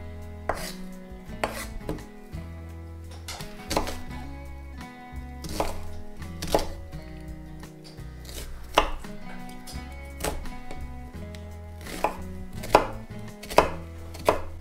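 A large onion is chopped on a cutting board in a homestead kitchen for a beef bolognese. Crisp knife strikes come in quick irregular bursts over faint tonal background music.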